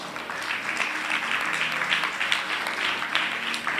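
A church congregation applauds throughout, a dense and steady wash of clapping that stays loud and even from start to end.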